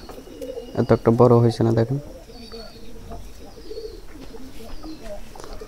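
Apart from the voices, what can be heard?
pigeons cooing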